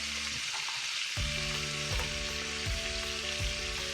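Onions sizzling alongside a ribeye steak in a hot cast iron skillet, a steady loud frying hiss that swells as they go into the pan, with a few faint clinks and stirring touches over the continuous sizzle.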